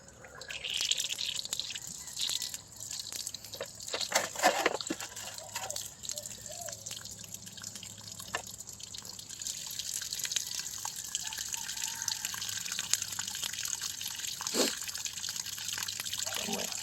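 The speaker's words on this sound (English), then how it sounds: "I'm going to turn on the water real slow" Tap water running slowly through a carbon block filter, a soft trickle with scattered drips and a few brief louder splashes.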